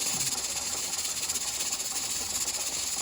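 Steady, loud rushing hiss of water boiling hard in a canner, continuous and close with no pauses or voices.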